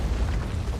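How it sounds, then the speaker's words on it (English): Deep rumbling booms from a collapsing place in the video game Outer Wilds, a continuous low roar of explosions filling the whole moment with no talk over it. "Lots of explosions, too."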